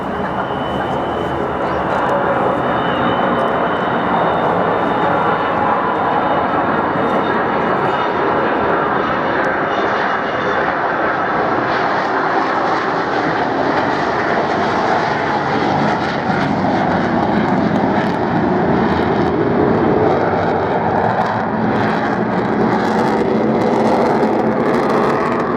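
Avro Vulcan XH558 jet bomber making a flypast at the Bournemouth air show, its engines a loud, sustained roar with a rising howl that swells through the pass, while a commentator speaks over it.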